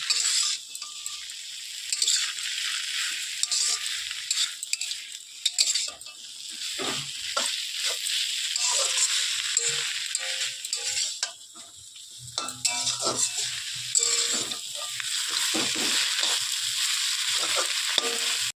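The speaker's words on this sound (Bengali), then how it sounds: "মটরের শাকটা দিয়ে সুন্দর করে একটু নাড়াচাড়া করে আর একটু কষিয়ে জল দিয়ে দেবো" Pea greens and beans are stirred and fried in a pan: a continuous hiss of sizzling oil is broken by repeated scraping and clinking of a spatula against the metal, close and busy for the whole stretch.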